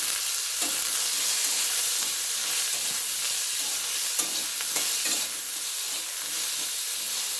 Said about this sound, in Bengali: শুক্তো এই সবজিগুলো একটু ভেজে নিলেই আর বসিয়ে দিলেই হয়ে গেলো